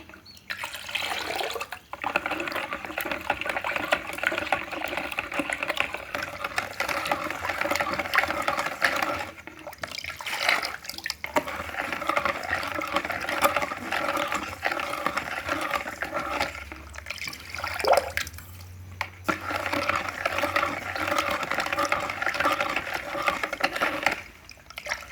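Cardamom sharbat syrup is stirred into water, giving a continuous close sloshing and splashing liquid sound that runs with brief pauses for the whole stretch, at moderate volume and with no voices.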